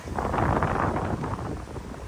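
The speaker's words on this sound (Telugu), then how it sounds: "వెదర్ అయితే చూడండి గాలి కూడా వస్తుంది" Wind gusts on a quiet city street at midnight in South Korea, a broad, steady rushing buffet against the microphone that swells and eases, with no voices.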